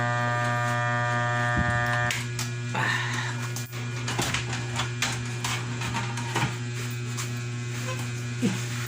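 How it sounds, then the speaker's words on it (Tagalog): A Sakura AV-5023US amplifier hums loudly and steadily after being powered on, a strong continuous electrical drone with a buzzy edge that carries on alone throughout. "Malakas ang ugong niya."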